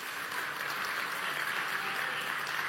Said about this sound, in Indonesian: Kita beri tepuk tangan untuk ini.